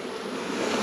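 Honey bees buzz at a hive during a beekeeping check, a continuous close hum that holds steady and swells slightly toward the end.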